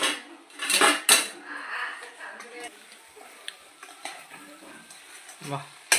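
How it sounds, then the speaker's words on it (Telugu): A utensil scrapes and clinks in a pan as deep-fried chicken is stirred into chilli chicken sauce, with a soft sizzle under close clatter. "మనం ఆల్రెడీగా ముందు మనం డ్రీప్ ఫ్రై చేసుకున్న చికెన్ని అందులో వేసుకుంటున్నాం. వేసుకొని కలుపుకోవాలి."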